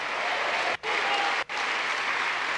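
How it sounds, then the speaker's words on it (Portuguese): A congregation at a church service applauds steadily and loudly, a dense wash of many hands clapping that cuts out twice for brief moments before resuming. "Aplauda o nome de Jesus. Aplauda mais forte."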